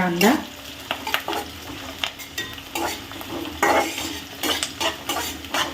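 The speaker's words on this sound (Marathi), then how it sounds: "कांदा चांगला मस्त परतवून घ्यायचा आहे" Onion and two small cardamom pods sautéed in a pan for masala sprouted moth bean rice, with steady close sizzling broken by repeated scrapes and clinks of a spoon stirring against the metal.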